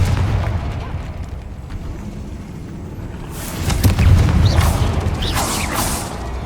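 A Confringo fire spell in the Hogwarts Legacy video game bursts with a muffled boom, the blast swelling midway and rumbling under crackling, popping debris and sparkly high effects against a steady game ambience.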